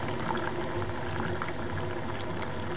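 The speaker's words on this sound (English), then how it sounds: "then you'll hear the pump go again" A Keurig coffee maker's pump refilling its water reservoir, a steady close rushing, bubbling churn that holds at an even level throughout.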